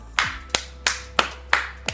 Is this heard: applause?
yes